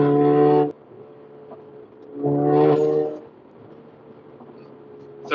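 A turbocharged MK7 car engine revs hard through the gears, with two loud rising pulls separated by a quieter lull and another surge starting at the end.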